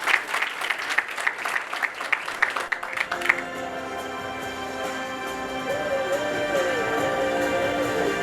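Applause from an audience at an award ceremony honoring Dr. Masami Okamoto, a dense burst of clapping for about three seconds that gives way to sustained music.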